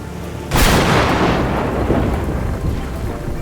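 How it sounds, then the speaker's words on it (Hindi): A sudden loud thunderclap bursts in and rolls on into a heavy, steady downpour of rain, storm sound effect with no voices. "अचानक से बारिश आने लगी"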